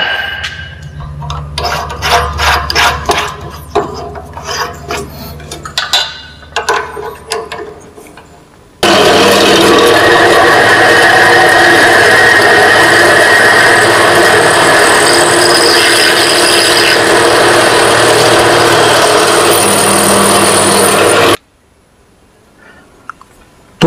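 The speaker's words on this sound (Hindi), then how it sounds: "तो अब इस जॉब में मोटा साइज का ड्रिल करना है।" A pillar drill machine bores a large hole in a metal workpiece, first with intermittent scraping and cutting bursts, then a loud, continuous grinding roar that cuts off abruptly before quiet returns.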